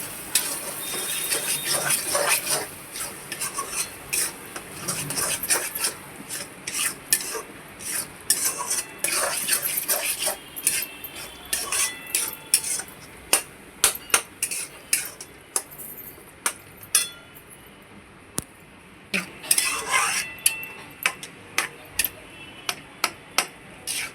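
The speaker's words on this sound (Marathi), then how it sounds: "चला आता मिक्स करून घेऊया आपण" Butter paneer cheese kheema is stirred and mixed in a pan, with a utensil clinking and scraping against the metal in an irregular, close run of sharp taps over a soft sizzle. No voices.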